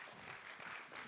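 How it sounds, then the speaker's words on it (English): A room full of people gives brief, faint applause for someone, a short soft wash of clapping with no voices on top. "Give him a round of applause."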